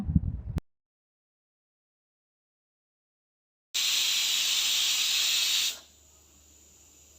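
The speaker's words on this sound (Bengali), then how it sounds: "প্রেসার কুকারটি লক করে দিচ্ছি। এটাকে এবার রান্না করে নেব ১০ মিনিটের জন্য।" A pressure cooker sends out a loud, steady hiss of steam for about two seconds, then it drops to a faint background hiss. A brief clatter comes before it, followed by a long silence.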